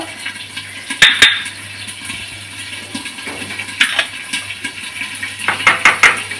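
Dry copra coconut roasting in a pan while being stirred, a Tamil sesame-brinjal gravy preparation, with scraping and clinking clatters at intervals over a low steady hiss.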